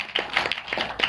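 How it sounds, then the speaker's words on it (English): Scattered hand claps from a small meeting audience welcoming a new guest, several quick overlapping claps in about a second, moderately close and without talk. "Should we give an applause to the new guest?"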